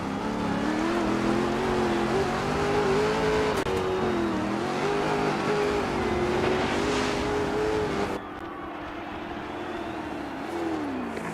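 A Jackson pro truck engine drones continuously under throttle while driving, a loud, steady buzzing tone that rises and falls slightly with small changes in revs, dropping lower near the end.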